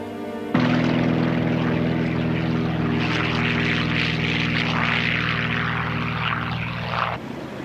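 An RAF squadron of propeller aircraft flying overhead, a loud, sustained droning engine roar with a steady buzzing tone that swells and holds for several seconds before cutting off, with no voices.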